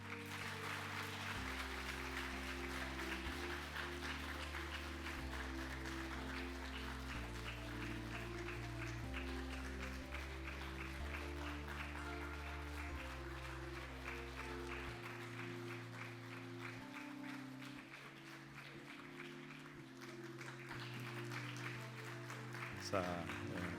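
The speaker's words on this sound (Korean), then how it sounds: "여러분들은 박수로 이분들을 축복해 주면 좋겠습니다." A congregation at a Korean church Sunday service applauds newly baptized members, with long, steady clapping running beneath sustained keyboard music.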